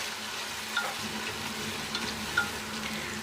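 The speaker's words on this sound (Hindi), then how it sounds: "हल्का सा जो लहसुन अदरक का पेस्ट है वो इसमें ऑयल में पक ले और उसकी स्मेल निकल जाए" Garlic-ginger paste cooks in oil for a chicken and tinda curry, producing an even, close hiss of frying with three faint metallic clicks from a stirring spoon, no voices over it.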